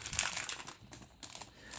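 Crinkly plastic wrap being crumpled and torn while a Pokémon Ciel Rugissant display box is opened, in close, uneven rustling bursts with brief pauses between them.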